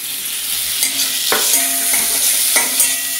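Chopped tomatoes fry with golden-browned onions in a pan under a loud, continuous sizzle, with two or three distinct scrapes as the mixture is stirred.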